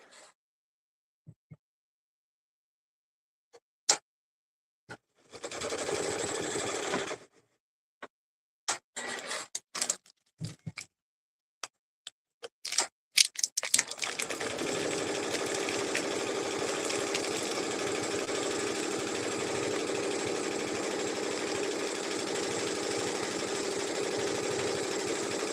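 A sewing machine stitches out a design of about fifteen thousand stitches. Scattered clicks and a short whirring burst come first, then the machine settles into a continuous, even, rapid mechanical whir that runs to the end.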